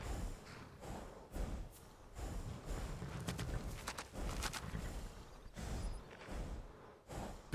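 In Skyrim, set in the town of Riften, a horse's hooves clip-clop quietly in uneven steps and thumps, soft and somewhat distant, with faint breathy sounds between them.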